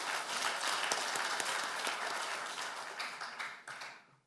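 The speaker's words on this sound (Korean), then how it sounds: "은혜로운 말씀을 전해주신 목사님께 감사의 박수를 드리겠습니다" Church congregation applauding to thank the pastor after a sermon at a men's mission prayer meeting, a dense sustained clapping that thins and fades toward the end.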